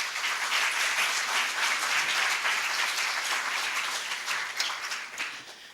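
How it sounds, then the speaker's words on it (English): An audience applauds a welcomed guest speaker named Rebecca at the Hallam Award 2014 evening event, a dense, steady wash of many hands clapping at a fairly even level for several seconds before tapering slightly at the end. "Let's give her a round of applause."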